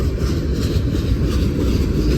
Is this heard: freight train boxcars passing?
yes